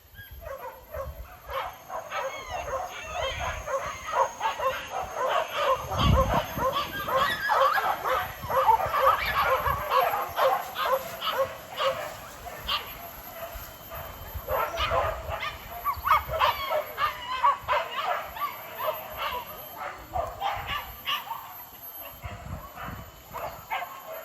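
A pack of hunting dogs bays and barks continuously during a chase, with many overlapping yelps and howls at middle distance that never pause.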